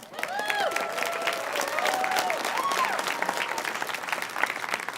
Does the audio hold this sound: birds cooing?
no